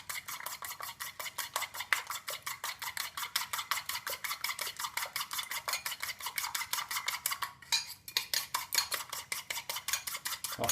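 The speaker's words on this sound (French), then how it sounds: "On mélange." A spoon stirring crêpe batter of flour and water in a bowl, quick regular scraping clinks repeating steadily throughout, faint and close, with one brief pause near the end and no voices.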